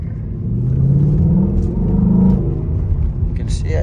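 A 2020 Ford Mustang GT Premium convertible in sport mode gives a deep, loud engine rumble as it pulls away on a little throttle in a small parking lot. The drone rises and holds, then eases off near the end.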